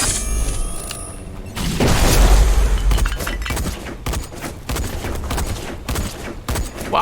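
Sniper rifle fire in the video game Black Skylands during a fight with swarm creatures: a heavy booming blast followed by a dense sequence of sharp impacts and rattling combat noise, loud and continuous, with no voices.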